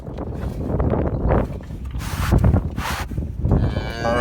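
A cow moos on a ranch in winter, with low drawn-out bellows close by and some rubbing and knocking noises around it.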